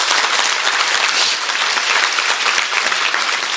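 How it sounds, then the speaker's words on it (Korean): A seminar audience bursts into loud, sustained applause, a dense steady wash of many hands clapping that holds at full strength throughout. "박수 한번 치워주세요."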